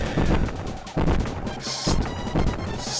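Cannon blasts in Kirby Super Star Ultra, four loud booming shots fired in a regular rhythm about a second apart, each with a crashing rumble, heard alone without talk.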